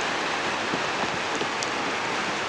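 Heavy rain in the Roblox game space mining simulator, a steady, dense hiss of downpour filling the whole short stretch at even loudness, with no voices over it.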